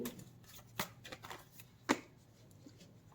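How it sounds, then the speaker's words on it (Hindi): Tarot cards handled and shuffled, heard as soft, quiet papery flicks and taps scattered across a few seconds, with one sharper snap near the middle. "अब मैं कार्ड्स लूँगी।"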